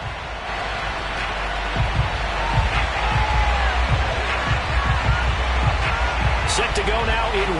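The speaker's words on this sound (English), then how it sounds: "this crowd is ready to go" Stadium crowd noise in the football video game Madden NFL, a Week 6 matchup against the Pittsburgh Steelers: a continuous, loud crowd roar with scattered thumps, and a commentator talks over it.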